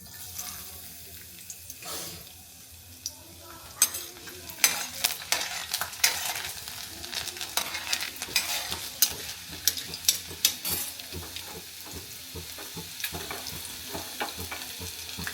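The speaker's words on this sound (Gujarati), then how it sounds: "હવે તેલ ગરમ થઈ ગયું છે તેમાં આપણે પેલા લસણ નાખશું" Chopped garlic hits hot oil in a pan, starting with a quiet hiss and then building into busy spattering sizzle with sharp pops and stirring clatter that continues to the end, close and fairly loud with no voices.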